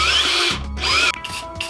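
A power drill bores holes in a stainless steel dog bowl, a close, loud whine with shrill metallic squealing in short surges and brief pauses.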